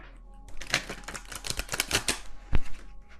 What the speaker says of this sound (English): I'm just going to set down, to save time, one more card for each of these